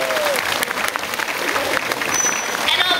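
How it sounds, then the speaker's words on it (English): Audience at a Vancouver Aquarium dolphin show bursting into applause, brisk dense clapping filling the space for a few seconds, with faint chirps and whistles threading through. "do you think we can give them one last round of applause?"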